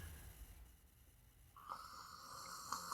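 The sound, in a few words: person imitating a snore into the microphone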